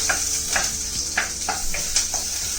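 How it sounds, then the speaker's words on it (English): Onions and lightly crushed cloves fry together in a pan while being broken up, a close, steady sizzle punctuated by regular scraping stirs about every half second. "So I'm just gonna, you know, fry all this together. So onions, just break it up."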